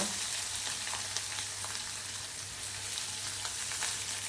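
Onion frying in hot oil in a kadhai for girmit, a steady, even close-up sizzle with scattered small crackles and no talking.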